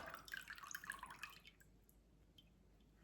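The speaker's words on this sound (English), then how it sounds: "It's dripping right now." Kombucha liquid dripping from a lifted SCOBY: a quick patter of close, soft drips and trickles for over a second, then thinning to a few faint isolated drops in quiet.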